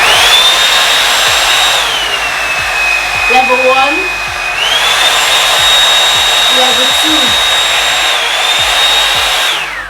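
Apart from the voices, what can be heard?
hot air hair brush blowing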